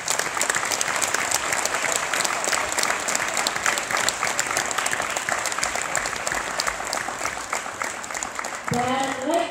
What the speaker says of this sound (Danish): Så skal vi ikke give en rigtig stor hånd til danserne og byde dem rigtig hjertelig velkommen.